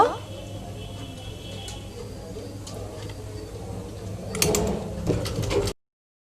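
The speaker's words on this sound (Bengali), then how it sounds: "এই সেলাইটা আমি ডাবল করে দিব" Sewing machine running a double line of stitching on a baby frock, a steady close mechanical whir throughout with a brief rattling burst near the end before it stops.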